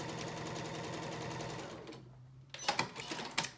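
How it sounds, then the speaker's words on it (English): A sewing machine stitching fabric over pins runs in a steady, rapid mechanical whir for about two seconds, then stops, followed by a few close clicks and taps from handling the machine. "I always sew over the pins"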